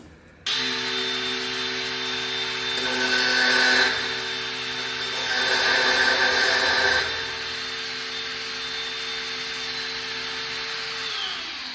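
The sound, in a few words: angle grinder cutting a car exhaust pipe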